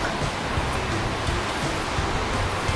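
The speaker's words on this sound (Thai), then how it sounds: "น้ำตก" A scenic waterfall in the Korat countryside of Thailand gives a steady, broad rush of falling water, loud and unbroken throughout.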